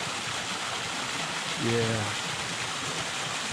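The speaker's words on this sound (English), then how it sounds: "That's a gorgeous little waterfall with all the moss." A small moss-covered waterfall on a mountain trail gives a steady, even rush of falling water that fills the whole scene, while a person briefly speaks over it.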